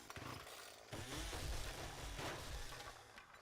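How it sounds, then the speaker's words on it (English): Chainsaw motor in the survival game 7 Days to Die, a rough buzzing drone that starts after a brief lull and runs steadily for a few seconds at moderate loudness, no voices. "Chainsaw."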